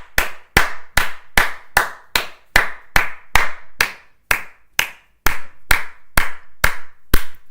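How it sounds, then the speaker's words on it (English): Sixteen sharp, loud hand claps ring out close by in a steady rhythm, each one a crisp isolated snap with a short decay and silence between. "I'm going to make noise because our filter is for claps."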